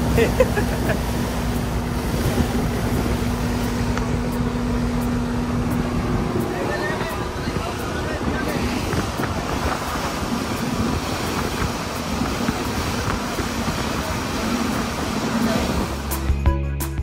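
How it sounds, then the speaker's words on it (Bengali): A speedboat races at high speed near Phi Phi island in Thailand, giving a continuous loud roar of engine and rushing water. Voices sit faintly under the noise. "প্রচণ্ড গতিতে ছুটে চলছে আমাদের বোট।"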